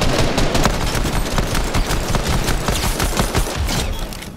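Dense, continuous video game gunfire from an online shooter match, rapid overlapping shots and bursts crackling steadily at close range for several seconds, with no speech.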